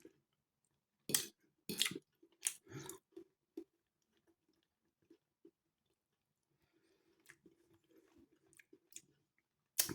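Bites of a Sainsbury's Taste the Difference cottage pie with firm, chewy mince in a red wine sauce are chewed close to the mic, with bursts of wet mastication and crunchy clicks between quiet pauses.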